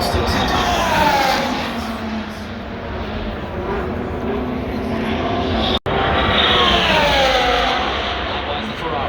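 Formula 1 cars race on the Las Vegas street circuit, their loud, high-pitched engine whines sweeping up and down as they pass close by one after another, with a brief dropout midway.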